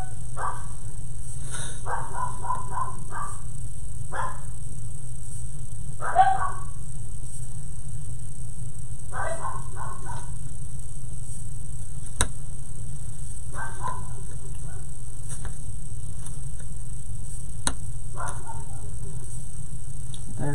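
Dogs bark in short scattered bursts and yips at a moderate distance, recurring every few seconds over a steady low hum, with no talk over them.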